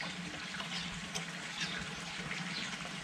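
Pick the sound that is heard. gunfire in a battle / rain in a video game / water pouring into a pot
water pouring into a pot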